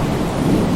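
Steady rain with a low thunder rumble fills a short stretch of stormy weather, broadband and constant throughout, with no voices.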